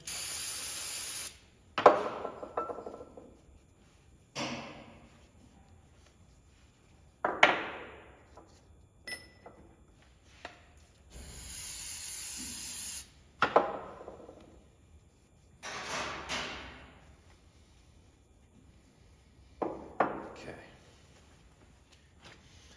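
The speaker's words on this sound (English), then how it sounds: "Carburetor cleaner." Carburetor cleaner sprays from an aerosol can in several short, sharp hissing bursts separated by quiet gaps, close and fairly loud, with occasional clicks and knocks from work on a 1946 Ford Woody Wagon.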